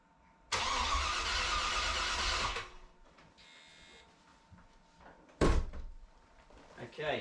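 Starter cranking the V8 of a classic Range Rover, in two loud bursts: a long churning spell of about two seconds, then a short second crank, with quieter workshop noise and faint voices between.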